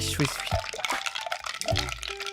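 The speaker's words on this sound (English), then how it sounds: "Now we're gonna swirl it around." Freshly brewed pourover coffee is swirled over ice in a carafe, giving off soft sloshing and dripping liquid sounds with faint ice movement, while voices talk over it.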